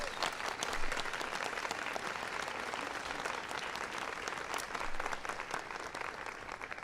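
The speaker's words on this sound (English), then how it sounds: "please give them a big round of applause as well." An audience applauds at the White House during a ceremony honoring the National Teacher of the Year, sustained dense clapping at a faint, steady level with no voices over it.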